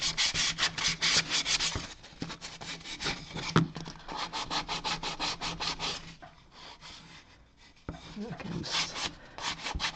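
A wooden model base is sanded by hand with quick, steady back-and-forth rasping strokes up close. The rubbing eases off for a moment near the end, then resumes at the same brisk pace.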